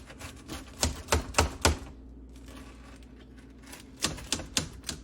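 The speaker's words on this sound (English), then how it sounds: "So we'll get this cut up here and try a piece out." Homemade pan pizza from a campfire oven being sliced, a series of sharp, quick cutting knocks in two clusters separated by a quieter stretch, close by and with no talking.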